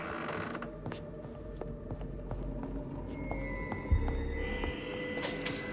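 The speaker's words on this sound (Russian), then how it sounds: "Такую дверь можно открыть." A door creaks slowly open in the video game Vampyr, set in a morgue; a drawn-out, low, grinding creak with mechanical clunks and a brief metallic rattle near the end, fairly quiet and close.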